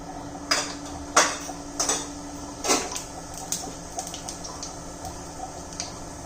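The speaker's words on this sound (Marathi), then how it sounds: "मोहरी जिरं तडतडले आपल्या आता" Mustard and cumin seeds pop and crackle in hot oil in sharp, irregular bursts, a few loud snaps early then smaller rapid pops fading into a soft sizzle.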